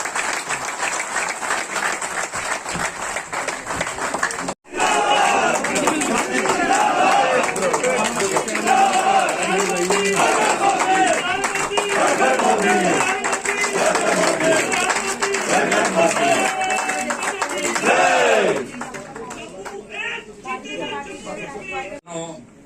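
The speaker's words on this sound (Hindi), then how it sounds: "एक बार जोरदार तालियों से इन दोनों नेताओं का स्वागत करें।" A crowd at the BJP headquarters in Jammu gives loud, sustained applause welcoming two political leaders. The clapping surges after a brief break, stays dense for over ten seconds, then thins out toward the end.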